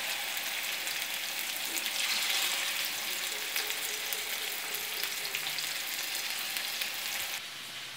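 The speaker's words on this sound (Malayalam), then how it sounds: "ഒരു പാൻ വെച്ച് അതിലേക്ക് ചിക്കൻ ഫ്രൈ ചെയ്യാൻ ഇട്ട് കൊടുക്കാം." Small curry-cut chicken pieces sizzle and fry steadily in a pan, a continuous close crackle with no talking.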